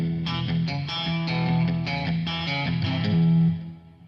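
Electric guitar played through a ToneStack amp head with both single-coil pickups engaged for an out-of-phase tone, clean to lightly driven strummed chords ringing steadily before fading out, with no talking.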